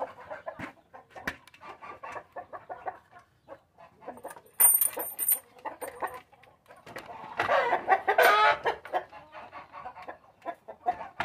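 Chickens and guinea fowl cluck and squawk at evening feeding time on a farm, a busy overlapping chorus of close calls that swells into louder excited cackling partway through.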